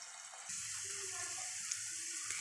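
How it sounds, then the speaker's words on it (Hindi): Water is poured onto chili, coriander and turmeric in a pan, starting abruptly after a brief pause and running as a close, steady splashing stream for about two seconds. "ये जो मिर्ची, धनिया और हल्दी है, इसमें हम पानी डाल देंगे।"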